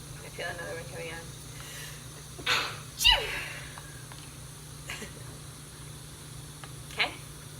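A person sneezes sharply twice in a kitchen while making a spicy chai concentrate, each sneeze a brief burst with a sharp intake, followed by quieter sniffs and breaths over a low steady hum.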